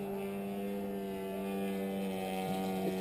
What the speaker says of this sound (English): that engine's running so good compared to Tim's